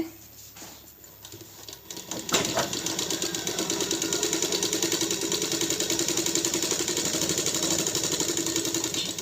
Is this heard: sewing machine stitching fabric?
yes